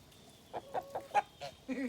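Chickens clucking in a pen, a handful of short, close clucks spaced irregularly, ending in a longer drawn-out call, alone with no talk.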